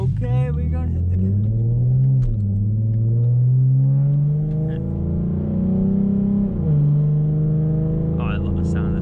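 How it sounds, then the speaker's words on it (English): A Mustang engine pulls hard under acceleration up close, its deep rumble rising through several climbing sweeps and shifts over nine seconds, loud and continuous with no voices over it. "Oh, I love the sound of this car."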